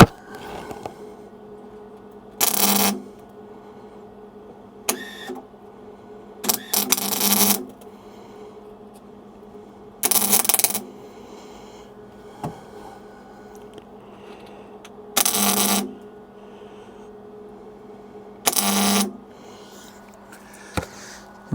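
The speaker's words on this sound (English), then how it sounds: "It's welding a little bit better today. I'll just knock that wire speed down a little bit." MIG welder laying short welds in the engine bay of a Morris Minor, six separate bursts of harsh crackling buzz of one to two seconds each with quiet gaps between, close and loud, with no talking.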